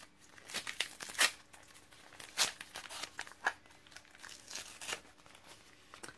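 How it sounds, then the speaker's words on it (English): A small gift is unwrapped from a package, giving bursts of crinkling and tearing paper at a close distance, several sharp rustles spaced unevenly with quiet gaps between them. "It's so cutely wrapped. I didn't want to unwrap it."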